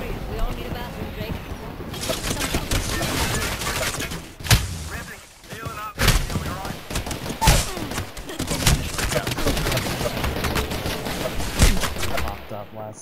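Sustained gunfire in the battle-royale shooter Apex Legends, with rapid bursts and sharp cracks recurring throughout, close and loud, mixed with game voice lines and talk.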